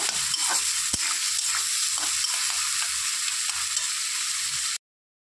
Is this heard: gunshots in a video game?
no